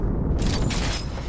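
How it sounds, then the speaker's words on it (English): A Gibraltar artillery strike in a video game lands as a deep, sustained rumbling boom, loud and heavy with low-end roar that swells after a moment and holds steady. "Yeah, that's artillery. It's a Gibby."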